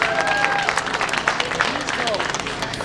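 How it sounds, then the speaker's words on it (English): A festival audience at the Northern California Soy and Tofu Festival in Japantown, San Francisco, claps and cheers in a brief, busy burst, with murmuring voices mixed in. "Give yourselves a round of applause for being back here live and in person."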